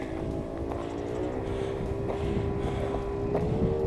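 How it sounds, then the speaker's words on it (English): A motorboat taking off drones steadily with a low hum, partly buffeted by wind noise across the microphone, continuous throughout. "You can hear the boat taking off."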